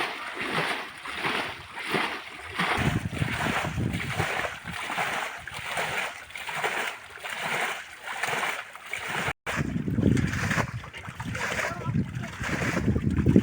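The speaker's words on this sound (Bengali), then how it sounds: "এই যে নায় থেকে পানি ফালানো হইতেছে।" Water being bailed out of a fishing boat on a village pond, with repeated rhythmic splashes and sloshes close by, steady for the whole stretch amid outdoor noise.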